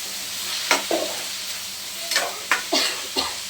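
A spoon stirs bottle gourd with grated coconut in a pan, giving several sharp scraping strokes against the metal over a soft, steady sizzle, close and distinct, with no talking.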